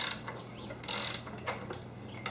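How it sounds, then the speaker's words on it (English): A ratchet wrench turns the crankshaft of a Mazda/Ford 2.0/2.3/2.5 engine to bring the piston down, a few close, brief ratcheting clicks in short bursts with no talk. "now what I'm going to do is take my wrench, my ratchet, and I'm going to take the piston down to bottom dead center"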